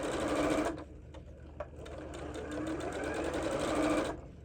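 A sewing machine runs in a long continuous burst while stitching fabric hearts, pausing briefly near the start for a couple of single clicks before the steady whir resumes and then cuts off near the end.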